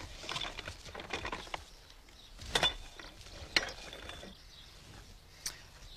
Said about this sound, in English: This is the Daisy number 2. Nice action, nice crank and bellows